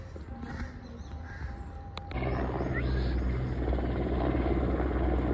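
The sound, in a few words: helicopter flying overhead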